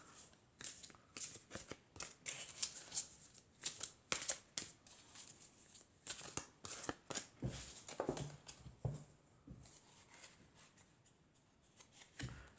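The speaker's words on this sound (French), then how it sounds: "je vais prendre une carte du tarot des fées." Fairy tarot cards shuffled by hand, a close series of soft riffling bursts and slaps in an uneven rhythm, followed by quieter card handling, with no talk.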